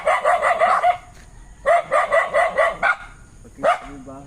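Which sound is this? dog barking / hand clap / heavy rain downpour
dog barking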